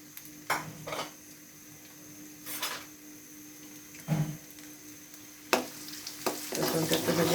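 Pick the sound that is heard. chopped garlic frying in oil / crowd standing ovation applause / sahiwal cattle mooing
chopped garlic frying in oil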